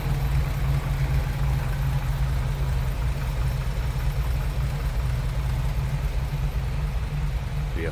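Engine of a 1963 all-steel Willys Jeep CJ5 running smoothly, a steady, close low rumble with even mechanical texture and no revving.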